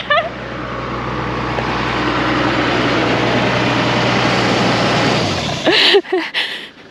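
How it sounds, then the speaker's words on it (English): A loud expedition vehicle's engine idles steadily in a remote off-road spot, a constant low rumble that cuts out near the end, followed by brief bumps and movement sounds. "Can we talk about the noise of this engine? It's so loud."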